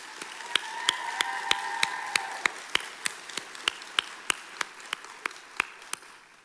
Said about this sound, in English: You all deserve a round of applause also